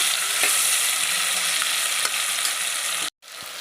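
Chopped tomatoes frying in a pan for a drumstick mutton curry, a loud continuous sizzle with faint clicks of stirring, cutting off briefly near the end before resuming.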